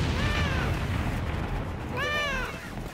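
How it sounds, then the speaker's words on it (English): Cat meows in the Umbrella Corps shooter game, two drawn-out calls about a second and a half apart over a steady rumbling game background. "The meows continue."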